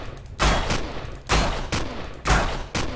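Turret gunfire in Empyrion Galactic Survival (Alpha 12), heard as loud, sharp bursts of shots recurring roughly once a second, each with a ringing tail, with no talk over them.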